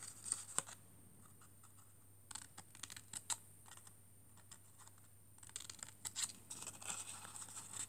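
Scissors cut paper at an angle, making a series of sharp, close snips and soft crisp slicing strokes that come in short, irregular bursts.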